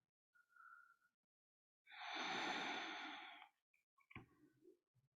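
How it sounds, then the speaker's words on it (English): Slow breathing while holding yoga tree pose: a soft, short breath at first, then one long, loud exhale lasting well over a second, followed by faint small sounds, with no talking. "Let's listen to 2 more breaths here in Vrikshasana."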